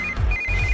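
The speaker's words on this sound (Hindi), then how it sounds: "इस वक्त दीदी का फोन" A phone rings with an incoming call: a loud electronic ringtone that pulses steadily, with short beeping tones over a low buzzing throb. No voices are heard.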